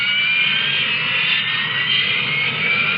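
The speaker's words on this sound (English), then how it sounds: "It isn't a conventional jet, but it can match the speed of sound." Harrier jump jet aircraft in flight, a steady loud jet roar with a sustained high whine running unbroken and close throughout.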